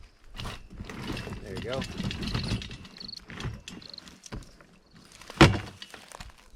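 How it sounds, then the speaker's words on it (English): A Gorilla Cart's dump bed tips when its handle is pulled up. Shuffling rattles lead to one sharp, loud clunk near the end, with someone talking throughout. "Just grab this little handle, pull up, and the whole thing will dump."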